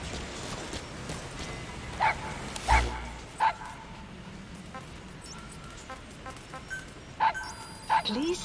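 A puppy in the video game Metal Gear Solid V: The Phantom Pain gives several short yips and whimpers spread across the stretch, mixed with game voices and radio chatter.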